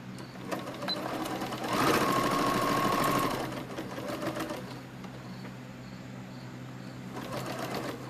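A sewing machine stitches fabric bats with the wing tips kept clear of the seam. A steady mechanical whir runs close and fairly loud through the middle, with softer motor hum and short bursts before and after.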